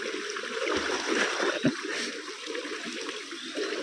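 Well water flowing and splashing steadily nearby, a continuous rushing wash with small irregular splatters and no talking.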